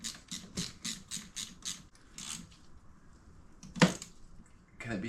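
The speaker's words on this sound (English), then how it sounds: "Install the bolt, install the heater hose, put the clamp on." A hose clamp is cinched onto a heater hose on an MG ZT 260 V8, a quick, regular series of close ratcheting clicks followed by a quieter pause and one sharp metallic knock, with no speech.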